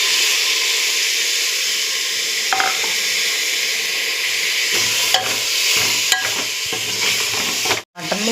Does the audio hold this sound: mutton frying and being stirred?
yes